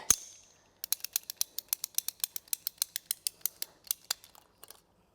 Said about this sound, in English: we just need to cut the pipe